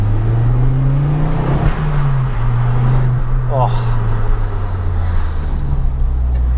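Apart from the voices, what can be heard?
Ford Focus RS Mk2 engine revving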